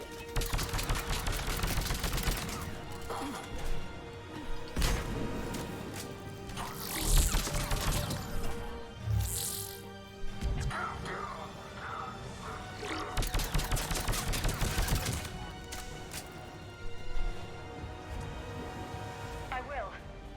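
Gunfire in the sci-fi shooter Mass Effect 3: scattered shots and bursts over an ongoing battle, with crashes and impacts and characters talking throughout.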